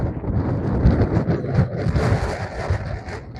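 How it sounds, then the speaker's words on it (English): Strong wind buffeting at an off-grid homestead, gusting and roaring steadily for a few seconds with rumbling microphone noise, loud and close with no voices. "man, that wind."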